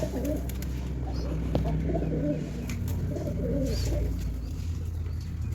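Pigeons with nearly grown chicks cooing in low, soft, repeated murmurs, with a faint chirp or two over steady background noise.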